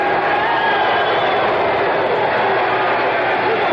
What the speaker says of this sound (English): Crowd doesn't like this